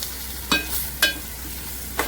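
Masala fried in a pan for a freshwater fish curry is stirred with a spoon, three distinct scraping strokes spaced about half a second apart over a soft background sizzle.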